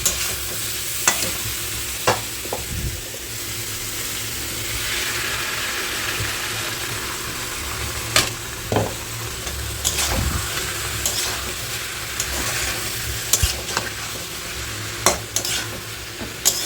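Banana pieces frying in a pan: a continuous sizzle with intermittent spatula scrapes and stirring knocks, close and fairly loud, with no talking.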